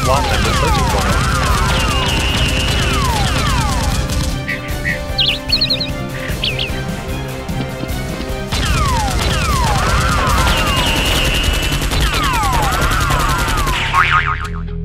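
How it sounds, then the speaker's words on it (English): Nerf guns fire foam darts during a staged backyard battle, scattered pops and clatter buried under loud, continuous music with whooshing effects, the shots hard to pick out from the soundtrack. "then jumps out and fires at the SWAT member searching for him."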